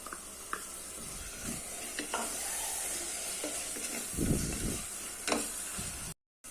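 Drumstick pulp fries with sautéed masala in a pan for drumstick biryani, giving a low, even sizzle with scattered stirring scrapes and clinks and a few louder scoops near the end.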